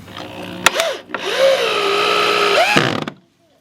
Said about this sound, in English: we can drill this all the way in.